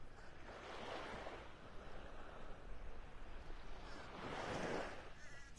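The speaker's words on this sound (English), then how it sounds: "standing out on the beach." Gulf waves at Pelican Bay beach in North Naples, Florida, on an early morning, soft and faint, with two gentle washes of surf rising and falling over a low steady background and no talking.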